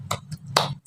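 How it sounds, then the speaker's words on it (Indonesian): A few sharp claps from a group in a rhythmic "tepuk semangat" spirit-clapping chant during an online lesson intro, short crisp bursts in quick pattern, close and moderately loud, with no voices. "mari kita tepuk semangat bersama-sama dulu ya"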